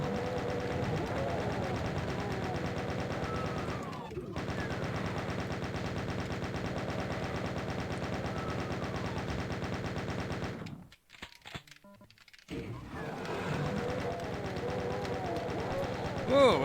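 Rapid gunfire rattles almost without pause while enemies are shot in the video game Doom, breaking off briefly twice before resuming.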